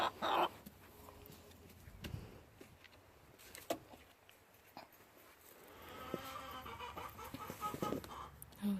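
Chickens clucking and squabbling as they sort out their pecking order, with sharp bursts of agitated clucks rising over a steadier, moderately close background of hen chatter.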